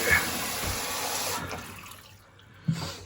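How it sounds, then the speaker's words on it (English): Tap water rushes out in a loud hissing gush as the supply is restored in a UK plumbing job, then thins and fades within a couple of seconds before a brief splash. "Right, water's back on."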